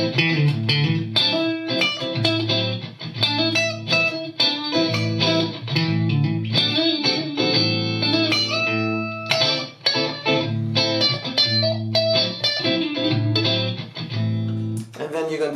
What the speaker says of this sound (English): This is another major second interval, and it would sound like this.